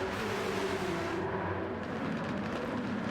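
Race cars lapping Circuit de la Sarthe in an endurance race on a racing game, a continuous loud engine roar with whining revs and a pack of cars streaming past, steady and close throughout.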